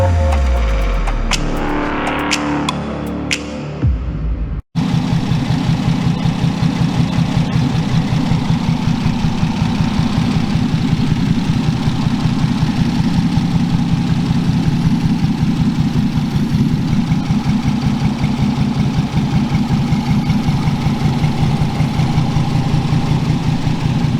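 Tweaked engine running in a workshop, a brief irregular rev at the start, then a sharp cut and a steady, loud, even idle rumble with a fast pulsing beat that holds to the end.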